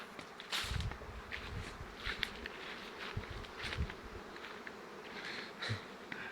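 Honey bees drone steadily around the hives of a rural apiary moved to sunflower fields in the Poltava region, with many individual insects buzzing close by and occasional faint rustles underneath.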